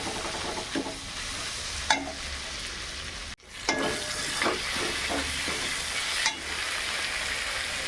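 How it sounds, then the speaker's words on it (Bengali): Spice paste stir-fried in a pan for moong dal cooked with fish head, a steady sizzle broken by a few sharp scrapes of the spoon against the pan, close up and without talk. "এবার ভালো করে কষিয়ে দেবো মশলাটা।"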